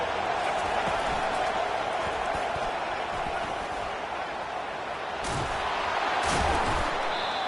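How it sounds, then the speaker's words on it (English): A college football stadium crowd roars steadily behind the defense on third down in an SDSU vs Alabama game, a dense, loud wash of cheering that swells toward the end. "Decibels rising as the crowd gets behind this defense on third down."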